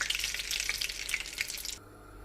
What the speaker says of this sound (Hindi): अब बाकी सारे कबाब भी मैं इसी तरह से फ्राई करने लगी।